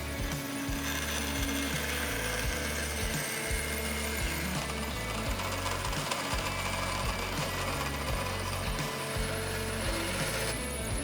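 A smaller-size bandsaw cuts angled wood pieces in a shop, its motor running steadily throughout with a loud mechanical whir and rattling, repeated low-frequency surges as each piece is fed through the blade.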